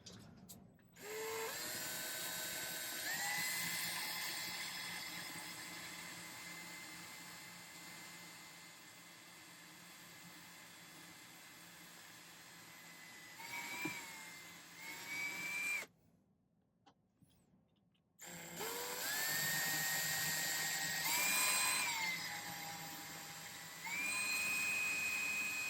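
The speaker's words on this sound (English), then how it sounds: "I have to drill some holes in it too" A small power drill bores holes in a silver pendant, a high whining buzz that holds steady, pitches up at points, pauses briefly to silence, then resumes; close and fairly quiet.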